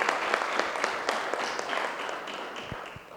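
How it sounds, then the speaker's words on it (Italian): Audience applause at the closing event of a school project in Vittorio Veneto: a moderate round of clapping from a seated crowd, individual claps distinct, fading slightly toward the end, with no speech over it. "Sì, ci sta l'applauso."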